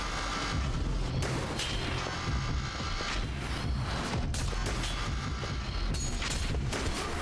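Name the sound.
missiles exploding in the video game Concrete Abyss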